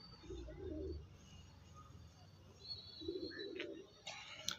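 Sturdy pigeons coo in two faint, low bursts, close but quiet, with a few brief chirps and light clatter toward the end.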